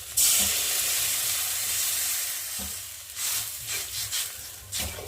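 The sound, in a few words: water added to hot fried spice paste, sizzling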